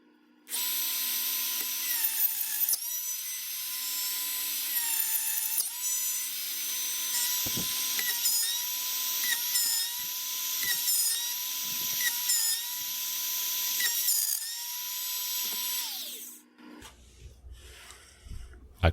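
A router guided by its fence cuts a slot into a wooden military rifle stock, a high steady whine with several brief dips as the cut proceeds. It winds down to quiet handling noise near the end.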